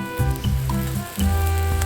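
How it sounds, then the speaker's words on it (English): Touton dough sizzles in hot oil, a short burst of crackling and bubbling frying, close and fairly loud. "Listen to the sizzle, guys."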